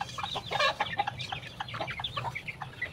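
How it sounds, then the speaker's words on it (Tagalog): Native and mixed-breed farmyard chickens fed coconut pulp at a rural Philippine home cluck and chatter busily together, several birds overlapping in a continuous close flurry of short calls. "Ito yung manok, oh."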